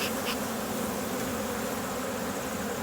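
A dense, steady buzz of many honey bees swarming around a hive before winter, continuous and close, with no pauses.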